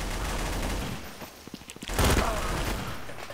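Machine-gun fire in Counter-Strike: Source comes as a brief, loud, rapid burst of shots near the end, after a few scattered softer pops.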